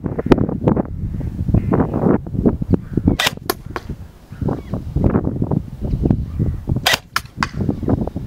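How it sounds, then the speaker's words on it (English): Steady, gusty wind of about 15 to 20 mph roars across the microphone at an outdoor airsoft range, rising and falling throughout, with a few sharp gunshot-like cracks from the Scar rifles breaking through. "a wind of between 15 and 20 miles an hour. You can hear it in the footage, it does pick up at times"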